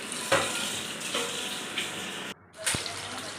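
Fish coated in salt and powder frying in hot oil, a steady close sizzle with periodic stirring or turning surges, one brief dropout, then crackling resumes.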